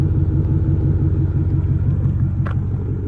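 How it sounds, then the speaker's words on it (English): Steady, loud low exhaust rumble from a 2023 Ford Raptor 4x4 crew cab pickup, heard up close at the rear of the truck as it idles continuously without talk. "Look at the exhaust. Listen to that."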